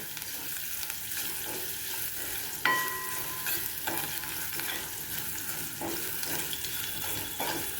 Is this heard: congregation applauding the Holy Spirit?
no